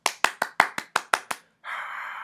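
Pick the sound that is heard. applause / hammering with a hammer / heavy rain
applause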